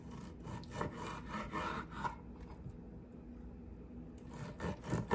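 Thawed pork being sliced into thin strips with a knife, a faint, close rasping scrape in repeated short strokes, with a brief quiet pause in the middle.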